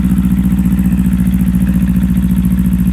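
A 2024 Kawasaki Eliminator 450 with a Coffman's Thunder exhaust idling warm, a loud, close, steady low throb with an even rapid pulse and no voices.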